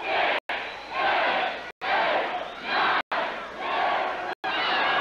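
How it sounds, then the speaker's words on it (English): Arena crowd at a Texas Wrestling Alliance show chanting in unison as they count along with a wrestler's chops, loud roaring voices rising together, each swell separated by abrupt brief gaps, repeated four times. "The crowd counting along."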